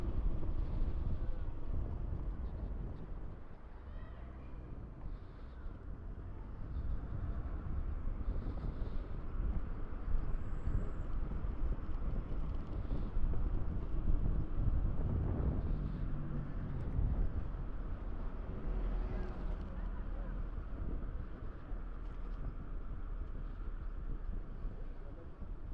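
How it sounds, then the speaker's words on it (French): Light breeze buffeting the microphone during an electric mountain bike ride outdoors, a steady low rumbling wind noise throughout with faint traffic-like hum, no distinct gusts. "il y a un léger vent"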